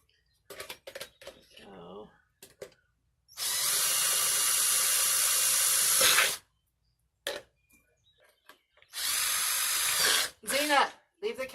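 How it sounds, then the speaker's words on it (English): A cordless battery-powered drill bores drainage holes in a plant pot, the motor whining in two sustained bursts of about three seconds and one second, separated by quiet handling noises and brief talk. "Okay, so I got my battery operated drill,"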